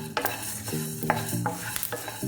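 Cumin, fennel, cinnamon, cloves and pepper being dry-roasted in a pan for a Mangalore-style chicken ghee roast: quiet, repeated scraping stir strokes with a faint crackle, under soft background music.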